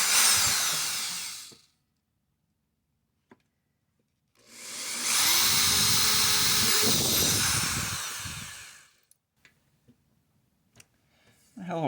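A power drill boring holes through a metal amplifier chassis for a Soldano SLO guitar amp build, two loud bursts of drilling separated by quiet, followed by small scattered clicks and handling noises.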